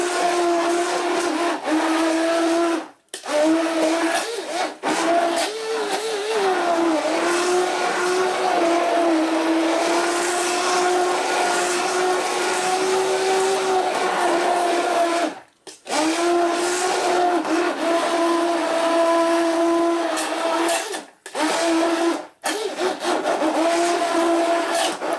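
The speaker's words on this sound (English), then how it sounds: "You want to give this a really good blend." A blender purees homemade vegetable soup with a loud, steady whirring motor roar that runs almost continuously, broken by a few brief pauses where the blade stops and restarts.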